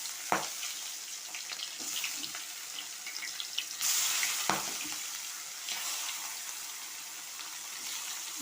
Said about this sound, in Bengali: এই যে দেখুন, তেলটা হয়ে গিয়েছে। এখন আমি মাছগুলো সব দিয়ে দেবো।